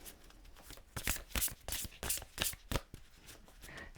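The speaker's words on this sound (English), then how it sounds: "So we're going to do a Belinda Grace True Love Oracle card." Oracle cards from a Belinda Grace True Love deck being shuffled, a run of crisp riffling bursts in an irregular rhythm, close and fairly quiet, with no talking.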